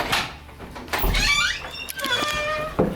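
A front door scrapes and creaks open nearby, with a squeaky slide, a low thump and a couple of clicks, no talking.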